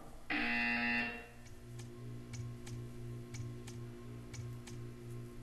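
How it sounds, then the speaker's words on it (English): A loud harmonic buzzer from Portal 2 blares for about a second, then cuts off, leaving a quiet hum with faint regular ticking behind it. "You will hear a buzzer. When you hear the buzzer, stare at the art."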